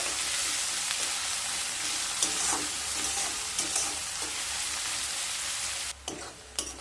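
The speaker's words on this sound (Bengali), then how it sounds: "পেঁয়াজ আর রসুনকে খুব ভালোভাবে ভেজে নিতে হবে।" Onion and crushed garlic fry in a pan for a wedding-style chhyachra, with a steady close sizzle broken by occasional scrapes and stirs of a spoon; no one speaks.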